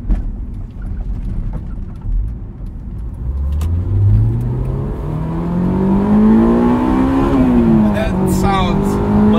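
A 2001 Honda S2000 engine revs up through the gears while driving, its tone rising steadily and loudly under steady road and cabin rumble, with a brief shift dip near the end.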